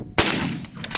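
A 20-gauge shotgun fires a single loud, close blast outdoors at clay targets, followed by a decaying echo.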